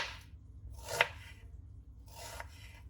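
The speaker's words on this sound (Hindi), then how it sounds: "प्याज भी बारीक बारीक हम काटेंगे" Onion being finely chopped with a knife on a board, a few soft crunchy slicing strokes in short bursts, close and quiet with pauses between.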